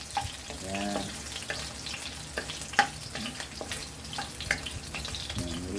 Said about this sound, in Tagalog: Prito na rin po natin itong bawang dito sa pinakagilid niya.